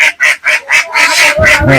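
Close, loud honking from geese or ducks at a duck farm in Sylhet, Bangladesh, about eight calls in quick rhythmic succession, with no talking.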